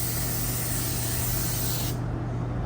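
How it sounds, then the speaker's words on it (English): One continuous hiss of spray runs close and loud for about two seconds, then cuts off abruptly. "So I might come down here and spray this"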